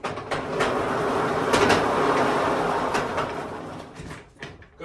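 A door in a cabin is opened with a sustained rumbling slide lasting several seconds, close and fairly loud, and it fades out with a faint knock at the end.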